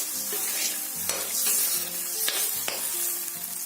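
A spoon stirs radish curry masala, fried in oil, after water is added to the pan. Repeated rhythmic scraping strokes run over a constant loud sizzle, heard up close.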